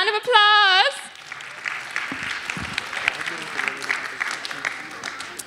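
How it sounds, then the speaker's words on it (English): At a Dallas wedding reception game, the guests burst into applause after a contestant wins. It opens with a brief loud tonal sound, then turns to a sustained crowd clapping mixed with cheering and chatter. "Round of applause."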